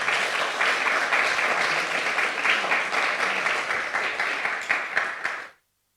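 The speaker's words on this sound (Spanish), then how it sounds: "Vamos a dar un aplauso a Jesús" Congregation applause during a church sermon on spiritual warfare: a dense, steady patter of many hands clapping, moderately loud, continuing for about five seconds before cutting off abruptly into silence.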